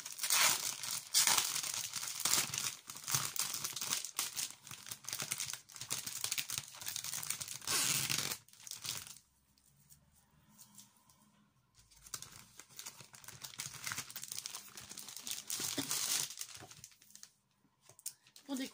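Packaging on a pad of craft paper being unwrapped, with loud, close crinkling and tearing of plastic film in bursts, a quieter pause in the middle, and someone speaking at times.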